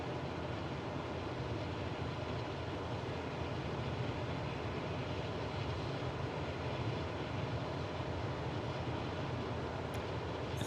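Steady, loud drone of a simulated airplane engine climbing after takeoff with flaps up in Microsoft Flight Simulator 2024, a continuous broadband roar holding even throughout with no voices.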